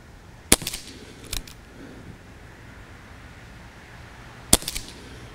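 Umarex Colt Magnum CO2 BB revolver fires two sharp, close shots about four seconds apart, with a smaller crack between, each ending in a brief clatter.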